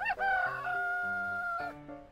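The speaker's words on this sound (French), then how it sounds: "Réponse, un coq." A rooster gives one full cock-a-doodle-doo crow, close and clear, with a rising opening, a long held middle and a trailing finish, heard alone without talk.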